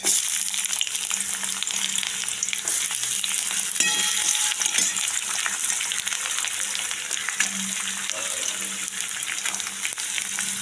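Onion frying in hot oil with cumin, bay leaf and whole garam masala for chire pulao gives a steady, even sizzle throughout, with a faint clink partway through.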